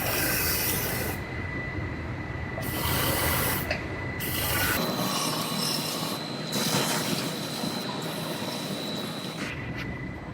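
A spray wand coats the inside of a cut and rewelded truck frame, a loud steady hissing rush that runs continuously with brief dips and a hollow, rumbling roar.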